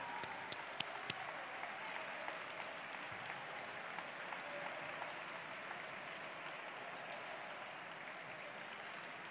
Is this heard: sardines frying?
no